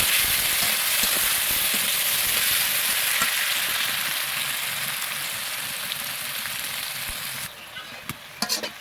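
Onions fry in oil for a spicy mutton curry, a dense, loud, continuous sizzle that drops away near the end, leaving a few scattered clinks.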